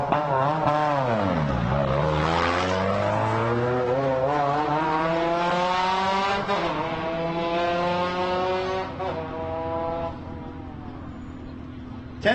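Alumacraft off-road race car with BF Goodrich tires at the starting line of the 2025 SCORE Baja 400, its engine revving loud and close, dropping sharply then climbing into a long sustained high-pitched drone that eases slightly near the end.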